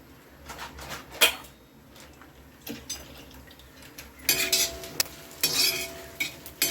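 A metal spoon scrapes and clatters against a pan while spices and coconut are dry-roasted for Nagpur-style patwadi rassa, with irregular sharp clinks and stirring scrapes close up and no talk.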